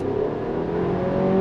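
A 2024 Chevrolet Traverse Midnight Edition, a turbocharged SUV driven in normal mode, pulls away from a stop. A steady, loud engine hum rises gradually in pitch from inside the cabin, with no speech.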